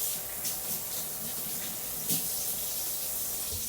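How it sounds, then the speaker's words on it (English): Tap water runs steadily from a kitchen faucet while hands are washed under it, a close, continuous splashing stream with a brief louder splash partway through. "I'm going to give my hands a quick wash."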